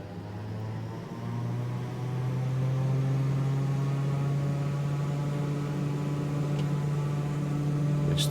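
Twin piston engines of a Beechcraft Duke in a flight simulator game run up to full takeoff power, a steady droning hum whose pitch climbs slightly and then holds, loud and continuous with no talk.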